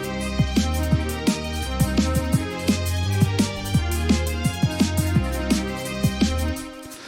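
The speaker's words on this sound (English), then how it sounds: "So we're using an arpeggiator on the strings." Synthesized strings run through an arpeggiator in Ableton Live, layered with a deep bass and sharp plucked notes in a steady repeating pattern, moderately loud for about seven seconds with no talking.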